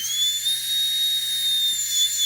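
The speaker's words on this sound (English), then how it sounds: "I'm going to kind of drill down into that" A steady high-pitched whine of a small rotary carving drill grinding into a duck eggshell runs continuously and close, with faint tonal shifts.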